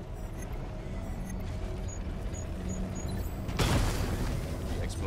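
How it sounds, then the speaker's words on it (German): A loud explosion in the video game Batman: Arkham Knight destroys a main cannon, bursting in as a broad roar about two-thirds through over a steady mechanical game rumble. "Die Explosion hat die Hauptkanone ausgeschaltet."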